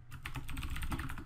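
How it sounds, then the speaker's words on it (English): Typing on a computer keyboard while using a Windows Phone 8.1 emulator, a quick run of close, crisp key clicks with no voices. "Typing on here is a pain, especially when using a keyboard."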